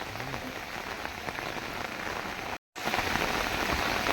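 Dense, steady monsoon rain pours down on a village, drumming on surfaces with a constant hiss; the sound cuts out briefly for a split second before resuming.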